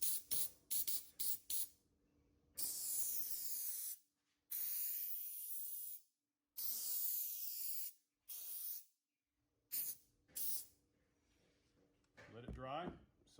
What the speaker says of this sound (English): let's spray our substrate